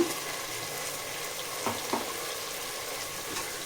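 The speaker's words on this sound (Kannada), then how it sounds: "ಜಿಂಜರ್ ಗಾರ್ಲಿಕ್ ಮತ್ತು ಇದ್ರದ್ದು ಪೇಸ್ಟ್ ಹಾಕ್ಕೊಂಡ್ಬಿಡೋಣ." Ginger garlic paste sizzles in a hot pan for chicken white biryani, a steady quiet frying hiss with a couple of soft clicks of stirring, close and without talking.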